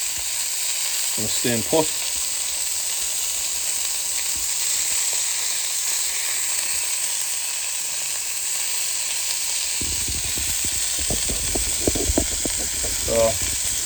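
Sausages sizzle on a Callow 4 burner plancha, a steady frying hiss running throughout with scattered pops and crackles, brief louder bursts near the start and end, and a voice speaking partway through.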